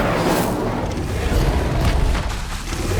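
A fiery spell blast from Hogwarts Legacy roars as a loud, sustained boom with crackling bursts, filling the whole moment alone without speech.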